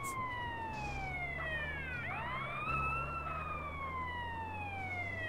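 An ambulance siren from the video game GTA San Andreas wails in steady rising and falling sweeps, loud and continuous, with a low engine rumble underneath and no talking.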